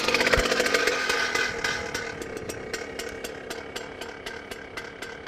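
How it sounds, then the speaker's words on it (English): A Wacker vibratory rammer's petrol engine settles into an idle after starting, a rapid, steady putter with sharp regular pulses, loud up close and easing slightly in level, no voices. "When the engine kicks over, open up the choke and let the engine idle for a minute."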